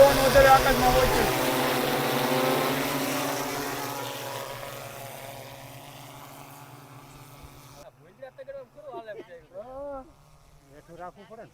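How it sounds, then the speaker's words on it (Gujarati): An agricultural spraying drone hovers in the sky, its loud propeller buzz steady at first, then fading away over several seconds. A person then talks in the quiet that follows. "મિત્રો તમે જોઈ શકો છો આપણો ડ્રોન અત્યારે આકાશમાં હોય છે."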